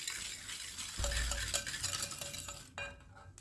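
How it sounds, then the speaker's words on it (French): A mixture being stirred in a bowl, with close, scraping, swishing strokes and occasional light clinks of the utensil against the side, no talking. "Donc, je vais déjà mélanger"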